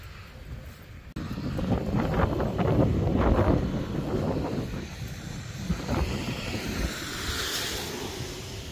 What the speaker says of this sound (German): Ja, aber windig.